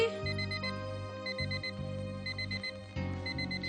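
An electronic alarm clock rings in repeated bursts of bright beeping tones, fairly loud and steady with short pauses between phrases.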